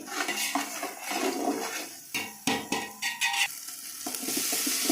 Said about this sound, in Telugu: కొబ్బరి పేస్ట్ ఎర్రగా వేగింది